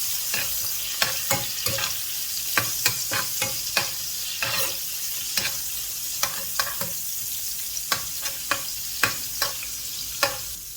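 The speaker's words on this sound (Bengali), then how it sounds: "এখন আমি ভালোভাবে পিঠাটা বাজিয়ে নিব" Pitha rice cakes fry in hot oil in a pan, a steady hiss of sizzling broken by a regular run of sharp scraping clicks as the spatula turns them, close and fairly loud with no talk.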